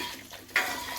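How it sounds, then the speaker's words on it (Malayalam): Boiling water is poured into a pot of prawn biryani, a brief soft splashing rush that swells suddenly partway through, near and fairly quiet. "7 ഗ്ലാസ് തിളച്ച വെള്ളമാണ് ഇതിലേക്ക് ഒഴിക്കുന്നത്."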